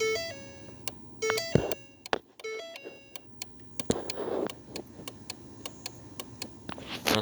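A 2010 Ford Focus SE with a no-crank, no-start fault gives a series of sharp ticking clicks plus several electronic chimes when the key is turned, and the engine never cranks. No one talks.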